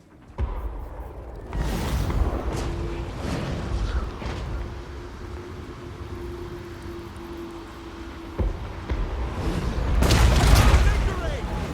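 Booming cannon shots from an artillery battery in a Warhammer fantasy battle game, several heavy blasts rolling out over a noisy battlefield din, with a commander's voice shouting orders over the top.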